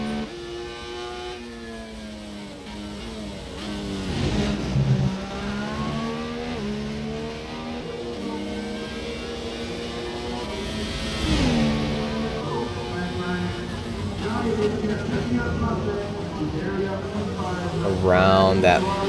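An F1 car on its outlap at the Canada round, warming its tyres as the engine note climbs and falls through repeated revs, heard under steady race commentary.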